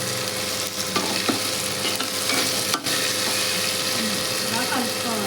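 A spoon stirs eggplant curry cooked with fried dry fish in a pan, giving a steady sizzle with scraping and clinking strokes throughout, loud and close.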